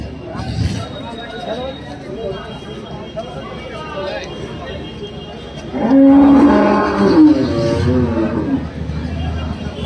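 Cattle low amid a busy outdoor crowd at a livestock market, with one loud, long moo standing out over the constant murmur of voices.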